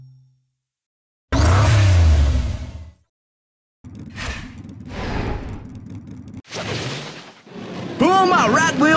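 A toy car from the Hot Wheels Unlimited video game revs and whooshes away in a loud burst, followed by further engine and game sound effects with a voice talking over them.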